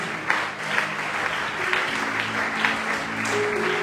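A church congregation applauds and cheers for God, a dense continuous wash of clapping with scattered shouts, steady and close throughout.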